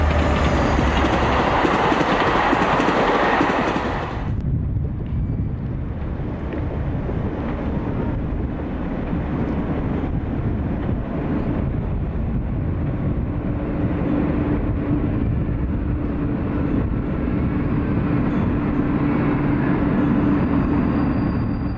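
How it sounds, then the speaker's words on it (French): A freight train hauling mineral water from the Hautes-Alpes rumbles along the Alpine rail line, its loud, continuous roll of wheels on track steady and close, with a brief brighter rush at the start before settling into a deep drone. "ce train de marchandises qui conduit à la ville les eaux minérales des Hautes-Alpes"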